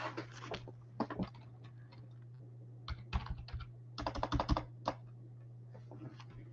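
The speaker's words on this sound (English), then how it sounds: "Y'all are gonna hear me typing." Bursts of rapid keyboard clicking come in irregular clusters with short pauses, close by over a low steady hum.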